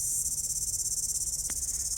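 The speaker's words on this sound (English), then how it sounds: "And right now you can really hear this very noisy" Noisy cicadas drone steadily in a garden after a cyclone, a loud continuous high-pitched buzz with a faint rhythmic pulse throughout, with no voices.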